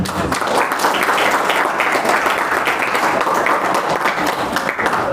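Loud, sustained applause from an audience fills the whole stretch, dense and steady, honoring the Karang Taruna youth organization of RW 07 at a community event.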